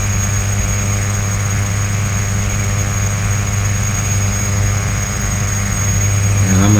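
Simulated Piper Malibu PA46T Jetprop turboprop engine drones steadily in Flight Simulator X during an ILS approach, a constant loud hum with fixed tonal whine, alone without talk.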